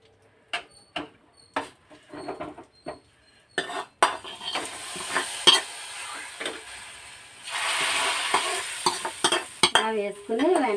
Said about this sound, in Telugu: ఇప్పుడు పోపు వేసేసుకుందాము.